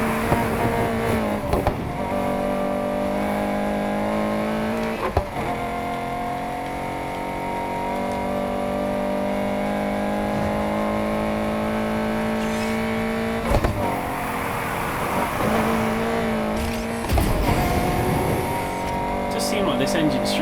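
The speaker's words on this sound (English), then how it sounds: "Like this engine struggles to put power down." Engine of a race car in the video game Need for Speed Heat, a loud sustained drone that climbs through revs with shifts and brief spikes, someone talking over it.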